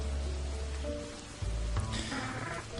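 Steady rain weather effect from a Pokemon Sun & Moon battle, a dense continuous hiss of falling rain with a low droning hum beneath and no voices.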